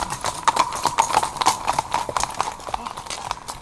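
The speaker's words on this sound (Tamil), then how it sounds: "இளவரசே, குதிரைகள் வரும் சத்தம் கேட்கிறது." Steady clip-clop of several horses' hooves in a Tamil radio drama, rhythmic and fairly close over a busy background, with a voice partly audible beneath.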